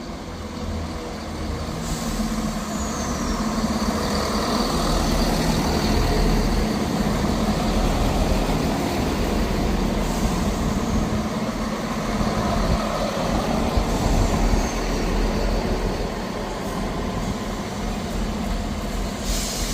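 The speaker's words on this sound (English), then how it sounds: "Arriving in now is the 13:07 Scotrail service from Leven to Edinburgh Waverley." A ScotRail service from Leven to Edinburgh Waverley pulls into Inverkeithing station, a loud steady rumble of diesel engine and rolling wheels close by, with brief hisses and squeals of brakes over the roughly twenty seconds.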